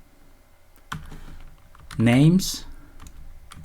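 Fingers typing code on a computer keyboard, a quick run of soft clicks under a man's speech at moderate level.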